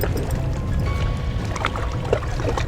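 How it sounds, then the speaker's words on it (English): Calm waves lap gently near an island, a soft continuous wash of water with small gurgles and splashes. The sound is moderately close and carries no talk. "Soothing, calm waves."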